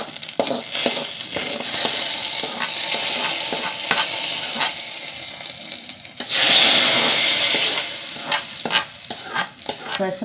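Ghee tempering with mustard seeds, shallots, dried red chillies and curry leaves sizzles loudly and close, with popping crackles, stirring clatter and a sudden fierce hiss burst midway.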